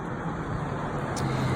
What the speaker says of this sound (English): if you hear cars passing by